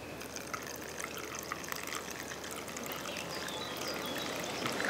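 Solvent pours into paint during the clean-up of a David Brown 990 tractor, a soft, continuous trickle of liquid heard up close with no talking.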